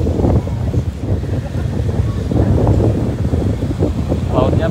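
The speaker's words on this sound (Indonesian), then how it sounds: "Lautnya berangin guys," Gusty wind rumbles steadily against the microphone at Fajalawa Beach, Morotai, with the low wash of rough sea beneath it.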